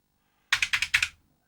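Half a dozen rapid keystrokes on a computer keyboard in one short burst after silence, close and sharp, ending abruptly with no voices.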